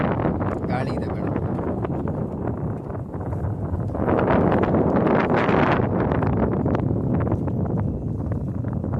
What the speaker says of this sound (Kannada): ಗಾಳಿ ಇದೆ ಮೇಡಮ್.